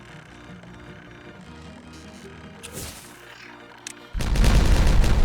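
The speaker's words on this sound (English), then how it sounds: "Right then, we detonate." A detonation in the colony-building game Timberborn: a quiet stretch of faint ambience and music, then a sudden loud, broad explosion that keeps roaring to the end.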